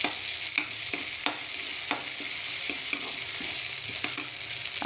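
Green chili and coriander paste sizzling in a pan for upma, a dense, continuous hiss broken by regular scraping stir strokes about every half second.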